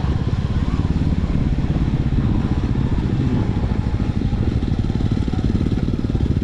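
A Royal Enfield motorcycle ridden up a steep road toward a waterfall, its engine a steady loud close thumping drone with fast regular pulses, running without a break and no voices.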